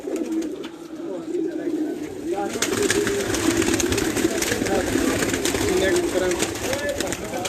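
A large breeding pigeon, sire of flying pigeons, cooing in low, rolling calls under ongoing nearby talk, with a steady background hum and rustle.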